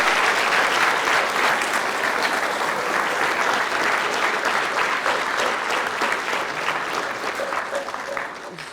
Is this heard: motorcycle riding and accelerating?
no